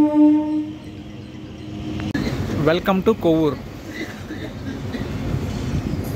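A MEMU express train runs near Kovvur, India, its steady rumble and clatter filling the clip, with a tonal horn-like sound at the start and a voice talking over the noise.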